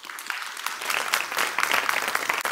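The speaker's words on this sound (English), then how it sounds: "She needs an applause." Audience applause at an event honouring a woman who funded scholarships for over 300 girls, a dense, steady burst of many hands clapping that swells slightly and carries on to the end without talk.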